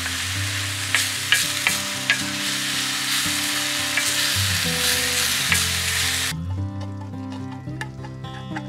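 Food sizzles and frying is stirred in a pan inside a camper van on a winter camping trip, a steady close crackle with scraping stirs until the sizzle cuts away near the end, leaving a background tone.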